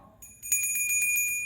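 A bright notification bell chimes in a quick run of repeated rings, clear and fairly loud, with no talking over it.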